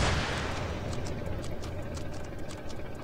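Heavy tank cannon blasts and gunfire in a battle royale video game, a dense, loud rumbling barrage throughout with low booms and crackling bursts.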